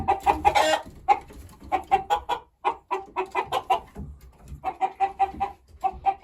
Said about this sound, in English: Rooster not happy.